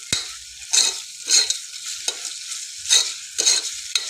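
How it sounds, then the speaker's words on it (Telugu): Rice and lentils frying in oil for masala khichdi, with a steady sizzle punctuated by several bursts of stirring that scrape and hiss loudly at irregular intervals, close and without talk. "ఇది కూడా కొంచెం ఆయిల్లో ఇట్లా ఫ్రై అవ్వాలి."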